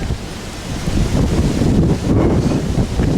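Wind gusts at a lakeside on Round Lake Charlevoix, Michigan, buffeting the microphone with a loud, continuous low roar that swells toward the middle and stays strong to the end, with no voices.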